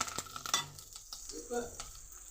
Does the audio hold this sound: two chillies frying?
yes